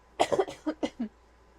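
A short run of several quick coughs, close and fairly quiet, with no talking.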